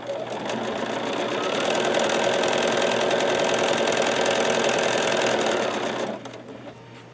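A sewing machine stitches quilt fabric for a Rainbow Sorbet block in a fast, steady mechanical whir that runs loud and close for about six seconds, then stops abruptly and leaves a low hum.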